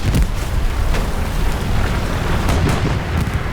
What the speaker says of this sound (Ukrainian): Бомбардування крепке, диви